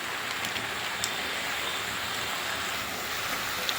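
A catla fish head fries with cabbage and spices in a steady, dense sizzle, a constant hiss close by and fairly loud, with a couple of faint clicks and no talk.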